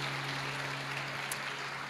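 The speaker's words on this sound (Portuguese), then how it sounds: "Você pode aplaudir ao Senhor por isso?" A church congregation applauds in a steady, dense wash of clapping that lasts throughout, loud and continuous with a low hum beneath.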